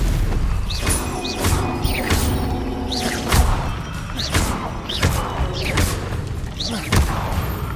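Spell impacts from Hogwarts Legacy gameplay: a rapid string of booming blasts and whooshing casts repeating about once a second, loud and dense over a continuous game soundscape.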